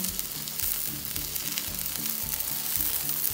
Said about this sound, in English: cook this fish in low flame